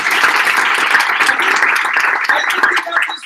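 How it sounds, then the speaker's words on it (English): Audience applause at a hackathon's final presentations: a dense, steady wash of many hands clapping at close range, holding loud and even throughout before tapering slightly at the end. "So big round of applause for Onno."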